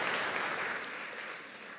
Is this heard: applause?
yes